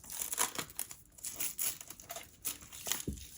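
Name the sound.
plastic cling wrap being unwrapped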